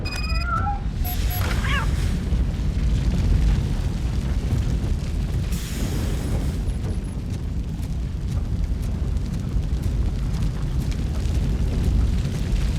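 A fire blazes in RoboCop: Rogue City, a loud, continuous broadband roar that holds steady throughout with no pauses and no clear talk over it.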